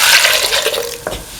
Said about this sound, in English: Pour in 250 ml of coconut